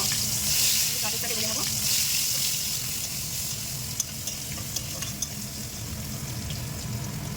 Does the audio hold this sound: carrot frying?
yes